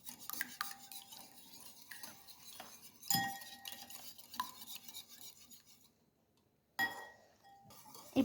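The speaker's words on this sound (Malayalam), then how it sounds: "നല്ലതുപോലെ മിക്സ് ചെയ്യണം." Chicken batter is mixed in a bowl, with scraping stirs and light clinks of a utensil against the bowl, close up and intermittent, with a brief pause near the end.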